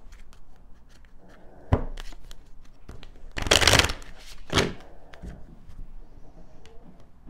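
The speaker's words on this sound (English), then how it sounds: "so let me just take out a few other cards" Tarot cards being drawn and shuffled close up, with soft papery slides and light taps followed by a brief riffling burst and another quick flick, all fairly quiet.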